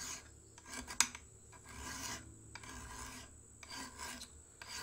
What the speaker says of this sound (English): proceed to square that spine off, cutting in one direction, in the direction I want that burr to be.